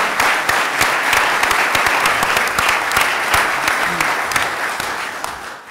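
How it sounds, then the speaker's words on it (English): An audience at a governor's public announcement gives loud, sustained applause with crisp individual claps throughout, slowly fading near the end. "Let's give them a round of applause for being here."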